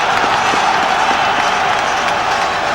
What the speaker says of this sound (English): the wall of noise resurrected as soon as West Brom reappeared from the tunnel